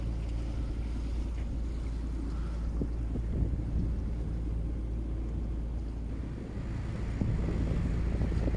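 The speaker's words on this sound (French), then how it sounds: "Il y a un petit vent qui s'est levé, du coup ça lève un peu la brume" Light wind blows at sea aboard a sailboat, a steady low rumble of wind buffeting the microphone over the hull and water, continuous with no talk.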